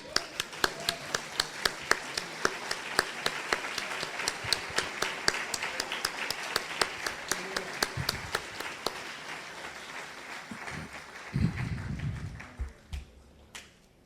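A church congregation applauding together during a worship service, steady rhythmic hand claps that carry on for several seconds before thinning out into scattered claps and faint rustling.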